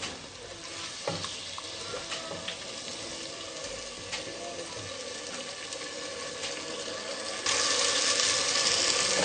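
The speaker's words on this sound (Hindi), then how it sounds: "अब हम इनको मिक्स करेंगे थोड़ा सा, इसको 1-2 मिनट हम इसको भूनेंगे।" Mixed vegetables for a home-style sabzi are stir-fried in a pan with a steady close sizzle, broken by scrapes of a spoon, and the frying swells louder near the end.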